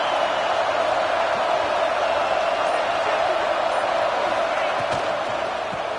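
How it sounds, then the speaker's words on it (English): Stadium crowd at a football game roaring steadily as a dense, continuous wash of cheering noise, loud and sustained throughout, with a broadcast voice faintly present. "It's early, but this crowd is fired up. Listen to this noise here."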